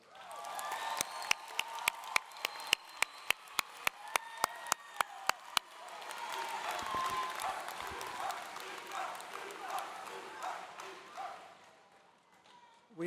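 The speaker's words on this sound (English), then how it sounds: "give the faculty a round of applause" A crowd applauds steadily, with sharp individual claps standing out at first before blending into a sustained wash of clapping that fades toward the end.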